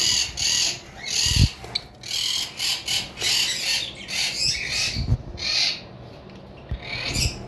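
Lovebirds in a cage, red-headed opaline birds, giving harsh squawks and scratchy chatter along with a few metallic rattles and knocks from the cage.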